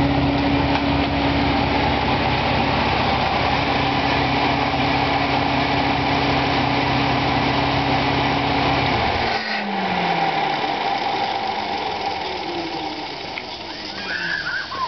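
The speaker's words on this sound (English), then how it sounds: "This compressor puts out about 12 cubic feet per minute or better at 100 PSI." An on-board air compressor runs loud and steady with a continuous motor drone, then the tone drops and slows as it winds down around the ninth second and keeps running more quietly.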